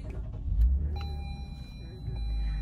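A 2020 Lexus IS 300 starting up, with a brief starter whir and engine catching into a low steady idle rumble, close by with faint background noise.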